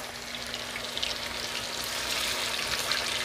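Oxtail pieces browning in a tiny skillet give off a steady, dense sizzle and crackle that holds level throughout, with no voices over it.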